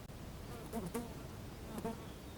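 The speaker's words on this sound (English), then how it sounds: "Kids, this is housefly." A housefly buzzes in short faint bursts, a couple of thin whining drones over quiet background hiss.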